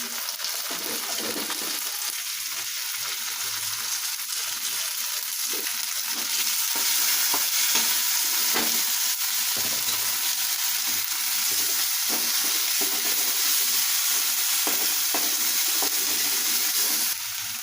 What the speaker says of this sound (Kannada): ಈಗ ಇದಕ್ಕೆ ಉಳ್ಳಾಗಡ್ಡೆ ಪೇಸ್ಟ್ ಹಾಕೊಳತ್ತೀನಿ ನೋಡಿರಿ